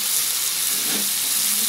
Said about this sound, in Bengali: এটাকে এবার ভালো করে আমাদের কষাতে হবে